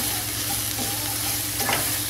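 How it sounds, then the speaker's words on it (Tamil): Mushrooms and vegetables sauté in a pan for mushroom biryani, a dense, loud, close sizzle running steadily throughout, with a brief scrape of stirring near the end. "கொஞ்சம் காய் நல்லா வதங்கட்டும்,"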